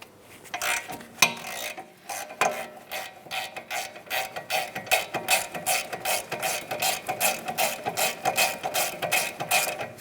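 A ratchet with an 18mm socket loosens a mounting bolt on the rear wheel hub of a 2008-2016 Chrysler Town & Country, giving a close, fast run of clicking pawl strokes in repeated bursts.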